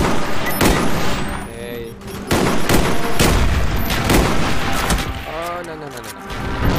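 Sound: mortar strikes in video game Call of Duty: Black Ops

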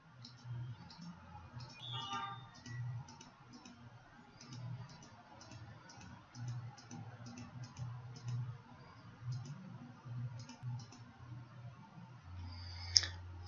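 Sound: mouse clicking while digitizing polygons in QGIS

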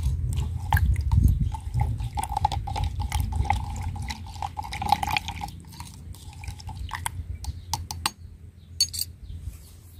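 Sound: stirring liquid fertilizer mixture

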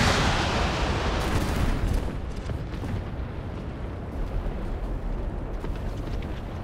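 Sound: bombs dropped and exploding in War Thunder video game

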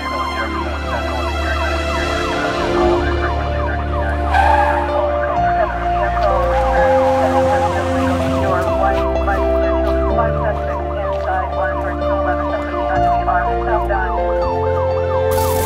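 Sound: police siren sound effect with music

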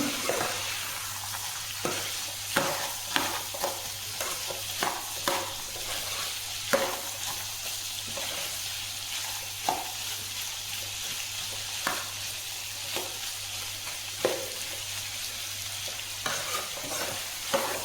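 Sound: stirring cauliflower and chana dal fry in a pan

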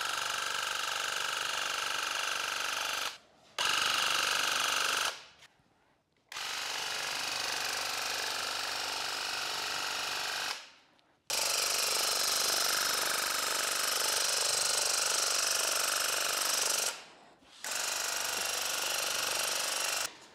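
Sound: Graco paint sprayer spraying paint onto kitchen cabinets

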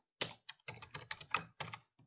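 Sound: typing code on a computer keyboard

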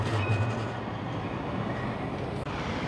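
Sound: tram passing by on a street in Besançon, France

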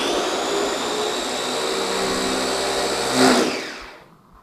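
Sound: kitchen blender running

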